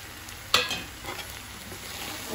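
Soya chunks tossed with tomato ketchup in a frying pan for soya chilli: a close, steady sizzle with a sharp clank of the spoon followed by brief scraping strokes, no voices.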